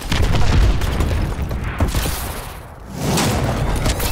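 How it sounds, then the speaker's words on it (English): Enemy missile strikes in a Call of Duty match land as a dense, loud wash of booming explosions and crackling blasts, dipping briefly before surging again. "Enemy missile strikes."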